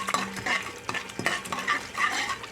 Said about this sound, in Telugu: ఇలా పోపు వేగాలండి.